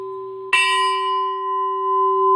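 A shorter cylinder bell is struck once, producing a sharp metallic attack followed by a sustained ringing tone with strong steady partials, loud and close, holding on with little decay.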